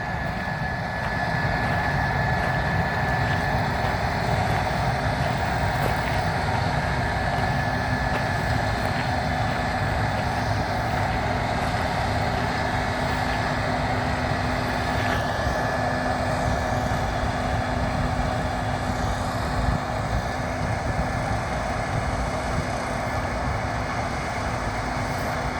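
A 2020 Case IH 7150 combine harvester with 466 horsepower works through winter wheat in Norfolk, its engine and threshing machinery a loud, steady, continuous drone with no breaks.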